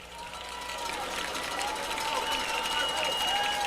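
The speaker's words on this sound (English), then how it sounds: "Crowd's making noise. That student section, something else." A high school baseball student section at Berwick Panthers versus Jena Giants keeps up a steady wash of distant crowd noise beneath play-by-play commentary.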